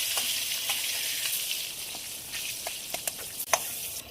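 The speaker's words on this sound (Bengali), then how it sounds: "বেগুনগুলো এদিকটা ভাজার জন্য উল্টে দেবো।" Eggplant slices fry in hot oil in a pan for a yogurt eggplant dish, giving a steady close sizzle with scattered crackles and a few sharper pops near the end.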